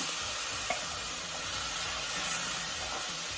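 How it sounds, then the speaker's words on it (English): Corn added to onions, red peppers and cilantro frying in a pan, giving a steady soft sizzle and hiss with a faint clink or two of stirring. "And then I'm going to go ahead and put in my corn."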